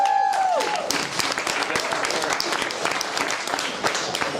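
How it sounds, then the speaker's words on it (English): A stand-up comedy show audience breaks into steady, dense applause that fills the room for several seconds, moderately distant and even, with a brief tone fading out at the start. "You don't have to applause."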